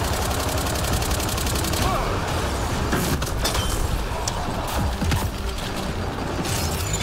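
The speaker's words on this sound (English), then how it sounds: "Go, turrets, go." Gun turrets fire in Mass Effect: Andromeda, rapid automatic bursts rattling continuously with mechanical clatter over a dense combat din, while a player's voice comes and goes beneath.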